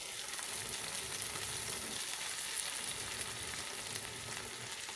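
Chopped fenugreek leaves fry in a pan for a masiyal, giving a steady, close sizzle with faint stirring and no voices.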